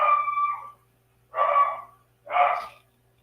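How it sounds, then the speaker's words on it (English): A dog howls once in a drawn-out, wavering cry, then gives two short, loud barks spaced about a second apart, close by and otherwise quiet. "Oh, my dog is going crazy."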